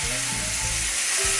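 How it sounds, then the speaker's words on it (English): Pork ribs sizzle hard in a pan on the hob, a loud, steady frying hiss throughout with a faint low hum beneath. "Then in we go with the ribs. We want to get some nice caramelisation going on here."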